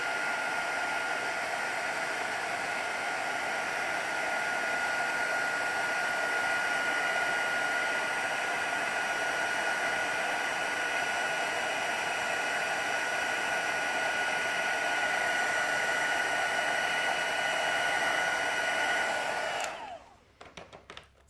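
A heat tool blows hot air over a Christmas craft piece, giving a steady, hissing fan roar that holds for about twenty seconds and then switches off abruptly into quiet, with no talk.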